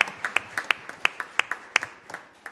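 Scattered clapping from a small group at a school governing board meeting, a series of distinct, fairly faint claps in a loose, uneven rhythm with no talking.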